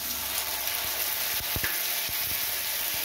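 Tomato paste and spices sizzle in hot oil with fried ginger in a frying pan while cooking koi fish curry, a steady close crackle with a few sharp stirring clacks.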